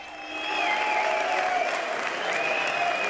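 Applause from a crowd at a Vox campaign rally, steady, dense clapping that builds in the first half-second and holds loud and continuous throughout.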